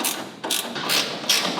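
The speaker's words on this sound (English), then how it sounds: "you can snug up the bolts on the bottom to keep that nice and tight" A ratchet wrench clicks in steady bursts as it snugs up bolts on the tonneau cover rail bracket of a 1986 Chevrolet C10 Squarebody pickup, loud and close with short pauses between strokes.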